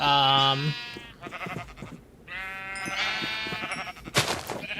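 Several sheep in Minecraft bleat one after another in a pen, with clear, close wavering calls across a few seconds.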